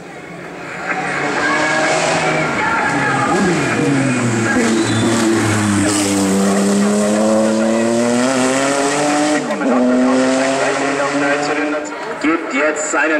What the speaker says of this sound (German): Gibt jetzt seinen 500 PS freien Lauf und die folgen Norbert Brenner im Opel Vectr